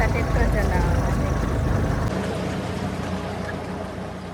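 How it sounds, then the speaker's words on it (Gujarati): A farm tractor's engine rumbles steadily and loudly close by on a country track, a continuous coarse drone that eases slightly in level toward the end. "જો ટ્રેક્ટર એ આવે છે"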